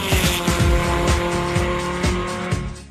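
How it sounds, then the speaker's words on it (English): Hot rod engine fitted with a MagnaFlow performance exhaust, revving hard in close, loud repeated bursts with a deep rumble and sharp rising sweeps, alone without talk. "MagnaFlow Performance Exhaust gives me that perfect sound"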